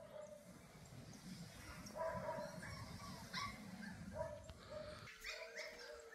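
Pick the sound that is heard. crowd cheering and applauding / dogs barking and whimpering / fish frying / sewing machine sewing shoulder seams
dogs barking and whimpering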